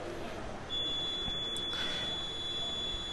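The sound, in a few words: beep of M3 electronic voting machine after a vote is cast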